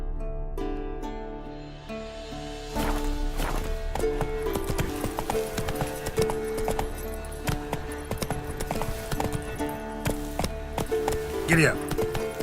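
A horse's hooves clip-clop in a steady trotting rhythm in The Witcher 3: Wild Hunt on the way to Kaer Morhen, set against a soft musical backdrop, with a brief jingle of tack near the end and no speech heard.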